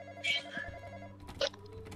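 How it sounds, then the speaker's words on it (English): A phone rings in a horror video game, sharp electronic ringing bursts repeating amid tense background sounds. "Hurry up and stop the phone. We have to stop the phone."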